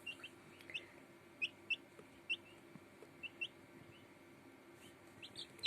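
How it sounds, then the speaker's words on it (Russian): Newly hatched Marans chicks give scattered thin, high peeps, quiet and spaced irregularly, over a faint low background hum with no speech. "Это у нас вылупились цыплята-мараны."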